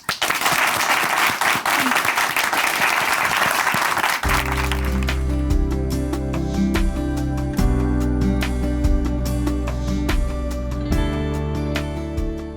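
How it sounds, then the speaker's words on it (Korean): A dense burst of audience applause at a church broadcast gives way to music starting up and continuing loudly, with the clapping fading underneath. "박수로 모시겠습니다."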